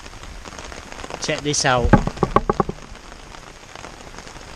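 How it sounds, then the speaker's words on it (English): Rain falling steadily on the ground outdoors in Yorkshire, a constant soft hiss of drops with someone speaking briefly over it mid-way. "The rains have finally arrived."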